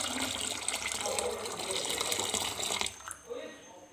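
Water pours in a steady stream into whipped cream being churned into homemade butter, a close, continuous gushing that stops abruptly near the end and leaves a quieter trickle.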